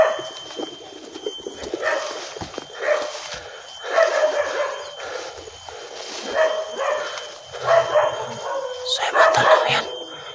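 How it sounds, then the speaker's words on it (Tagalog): Several dogs bark and yip at a distance in repeated bursts, some whimpering in between, over faint background noise. "May aso."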